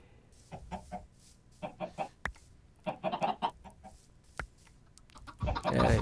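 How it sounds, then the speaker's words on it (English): Chickens in the Minecraft video game cluck in short, separate bursts with pauses between, a few sharp clicks between them and a louder flurry near the end. "those chickens, when they get a chance, they run like crazy"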